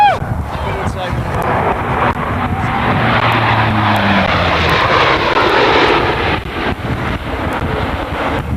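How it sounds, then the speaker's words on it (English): A C-130 transport plane nicknamed Fat Albert makes a low-altitude, high-speed pass at about 350 mph during an airshow, a loud broad engine roar that swells and holds for several seconds before easing slightly. "Captain Williams is now positioning Fat Albert for a low altitude high-speed pass"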